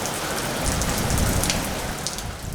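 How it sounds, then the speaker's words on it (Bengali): Light morning rain falls steadily across Chittagong city, a dense, even patter of drops on surfaces that stays close and constant throughout, with no voices. "অবশেষে চট্টগ্রামে দেখা মিলল স্বস্তির বৃষ্টি।"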